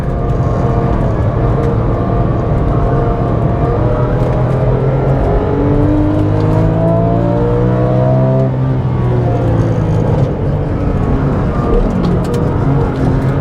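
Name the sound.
Porsche 911 GT3 engine accelerating on race circuit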